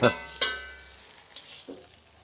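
Hot thuppada anna, ghee rice, is dished out of a pan with a few sharp scraping strokes followed by softer ones, quiet and close with a faint sizzle.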